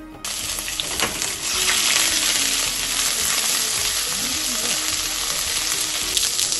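Ginger, garlic and chili paste sizzling and frying steadily in a pan for a Bengali-style spicy fish and potato curry, a loud continuous crackle with faint stirring scrapes throughout and no talk.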